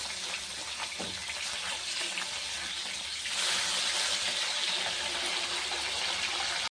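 Fish frying in hot oil in a home kitchen: a steady, close broadband sizzle that swells louder partway through and continues with no talk.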